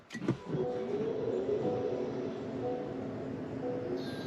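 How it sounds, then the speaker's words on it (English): A car engine cranks on a cold start with a sharp burst, then settles into a smooth, quiet, steady idle. "This is a cold startup on the new car."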